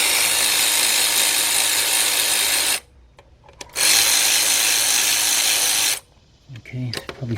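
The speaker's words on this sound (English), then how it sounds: "But let's get the bolts out." A ratchet wrench, likely power-driven, spins out oil pan bolts on a 2005 Cadillac CTS with a 3.6 engine, two loud sustained whirring bursts separated by brief pauses, with faint clinks afterward.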